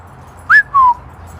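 A small yappy dog gives two quick, high-pitched yelps close by during an off-leash recall session outdoors, with a quiet background.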